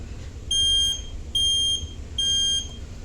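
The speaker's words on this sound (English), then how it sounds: "This smoke alarm still works" Three evenly spaced shrill electronic chirps come from a house smoke alarm under test, each about half a second long, close and clear against a quiet background.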